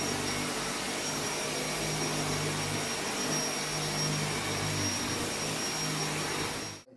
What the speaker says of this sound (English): So that's all the vacuuming done.